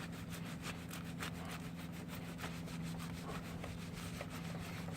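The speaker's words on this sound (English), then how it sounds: "get any oil residue like this out of there. Just give it a good rub." A rag rubbing oil residue off the engine area of a GY6 scooter, a close, quick back-and-forth scrubbing rasp in a steady rhythm with no talking.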